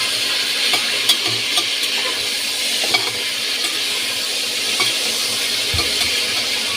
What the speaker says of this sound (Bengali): এটার মধ্যে আমরা এবার নুন দিয়ে দেবো। আবার নাড়াচাড়া করে নেব।